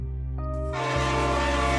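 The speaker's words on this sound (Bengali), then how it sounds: "সঠিক সময়ই ট্রেন এলো" A train horn sounds over rumbling rail noise as the train approaches, growing louder and fuller.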